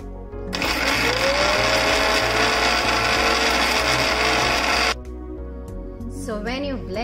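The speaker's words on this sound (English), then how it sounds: "we're going to give it a quick blend in the blender now" A blender whirs loudly and steadily through basil leaves and salt for a pesto paste, starting abruptly and cutting off after about four and a half seconds, followed by a brief quieter moment with a voice.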